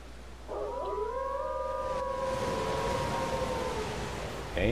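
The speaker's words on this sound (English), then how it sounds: "As soon as you hear the wolves howl, back up." Wolves howling in the game Elden Ring, several long overlapping howls that rise and sustain together against a low ambient hum.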